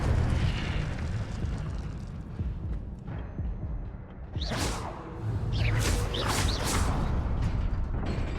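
Incendio fire spell cast in the Hogwarts Legacy video game, a roaring whooshing burst of flame with several sharp swishing bursts over a rumbling game background.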